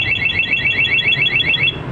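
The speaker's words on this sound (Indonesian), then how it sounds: "maka alarm tetap akan berbunyi keras dan motor tidak bisa dihidupkan sama sekali" A loud electronic motorcycle security alarm on a Yamaha XSR 155 warbles rapidly and continuously, a repeating high-pitched siren pattern that stays steady throughout.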